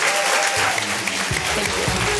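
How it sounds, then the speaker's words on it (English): A keynote audience breaks into applause, a dense burst of clapping filling the hall for a couple of seconds, loud and continuous with no voices over it. "Let's give a warm round of applause for Jessica and Neil."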